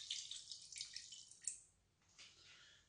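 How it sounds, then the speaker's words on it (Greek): Water poured into a pot in a home kitchen while making tahini halva, a faint thin splashing trickle that runs in short bursts and fades, with no talk. "Θα βάλουμε 100 γραμμάρια νερό"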